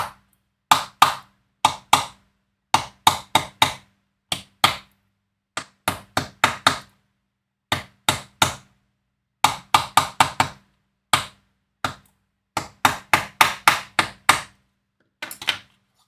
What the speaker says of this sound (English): I say use a little hammer